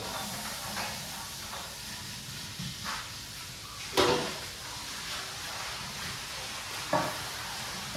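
Capsicum frying in hot oil gives a steady sizzling hiss, with a few sharper crackles and spatters breaking through at moderate volume and no talking.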